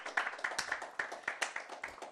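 Sparse, uneven clapping from an audience at a book round-table event honouring Professor Bonang Mohale, individual hand claps audible in a quiet room, faint and thin rather than a full ovation.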